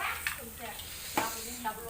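Pork sizzles and hisses on a hot Thai mookata grill, with a few sharp crackles popping up over the steady frying noise.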